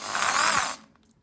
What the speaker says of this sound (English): to drill out the brand new brush